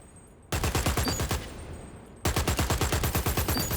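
Rapid bursts of gunfire aimed at moving targets in the shooter game Dirty Bomb, loud and close, with a short pause between two sustained strings of evenly spaced shots.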